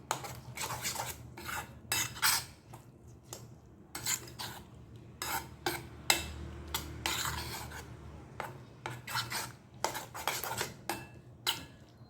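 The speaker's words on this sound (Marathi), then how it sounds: "चवीनुसार मीठ घालून देणार आहोत आपण. आणि छान मिक्स करून घ्यायचं आहे." A spoon scrapes and clinks against a bowl while aappe batter is stirred with salt, giving quiet, irregular bursts of stirring with no talk.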